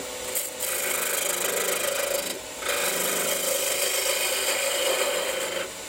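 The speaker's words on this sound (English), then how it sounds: "get me parting tool. Just clean up the end of it here." A parting tool cuts across the end of a turning wooden blank on a lathe, squaring it up for a multi-axis drink cup. The scraping, rasping cut is loud and steady, broken by one brief pause, with no talk.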